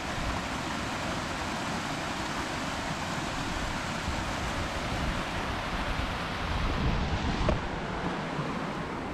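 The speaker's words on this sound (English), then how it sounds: "The way it bubbles up there where the water's dropping in," Water bubbling and dropping over an old dam at Loch Shandra in Glenisla, a continuous rushing roar with wind buffeting the microphone outdoors.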